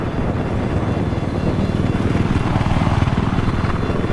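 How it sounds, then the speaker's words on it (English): A Battlefield 4 helicopter flying close overhead, a steady loud rotor and engine drone with fast rhythmic blade chop, continuous and unbroken with no talk. "You guys spot the heli?"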